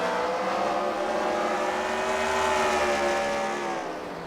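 Race cars roar through a second-round heat race at the Freedom Factory, a loud sustained engine drone whose pitch rises and falls as the cars pass and accelerate, with no voices.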